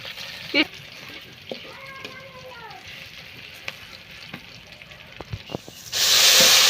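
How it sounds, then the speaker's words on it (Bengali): Quiet kitchen clatter and a brief whistle-like tone give way to a loud burst of hot oil sizzling as chopped onions hit the pan with crushed garlic and cumin. "এখন একটু ভাজা ভাজা করে নেব।"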